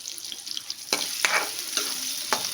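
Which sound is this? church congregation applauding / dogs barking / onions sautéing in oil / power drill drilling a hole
onions sautéing in oil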